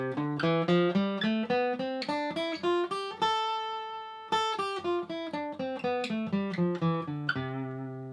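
A clean guitar plays a run of single notes up and down a scale, evenly paced and clear, with no voices.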